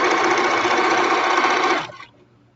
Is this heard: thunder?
no